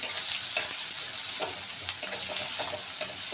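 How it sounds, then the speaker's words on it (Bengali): Chopped onions fry in a pan with a bright, steady sizzle, and the utensil clacks against the pan now and then as they are stirred. There is no talk. "পেঁয়াজটাকে একটু ভেজে নেব ভালো করে"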